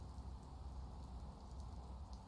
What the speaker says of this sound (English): It's just raining. It's not snowing for some reason.